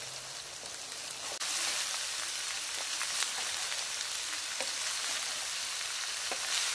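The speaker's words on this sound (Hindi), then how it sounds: "अब इसमें ऐड करेंगे गोभी, मिक्स करेंगे।" Cabbage is stirred into mutton in a frying pan, producing a faint, continuous crackling sizzle with scattered sharp clicks from the spoon; a single spoken word comes at the start.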